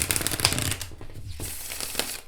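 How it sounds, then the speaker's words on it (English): Half of a tarot card deck riffle shuffled by hand: a quick, crisp burst of fluttering card edges, a short pause, then another softer ripple, close and alone. "I'm going to show you how it riffle shuffles that way"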